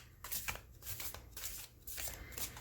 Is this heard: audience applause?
no